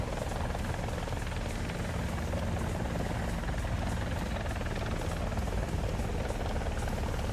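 Helicopter hovering in War Thunder, a steady, loud, continuous rotor and engine drone that holds unchanged throughout with no speech over it.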